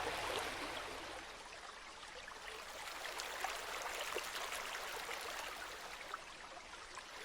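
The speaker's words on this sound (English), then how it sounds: "The sound of the water mixed with the sound of the wind, creating a fierce harmony of wild nature" Rushing water of a waterfall and river in the wild Maasai Mara, a steady broadband roar with a constant hiss that holds an even level throughout, loud and continuous with no voices.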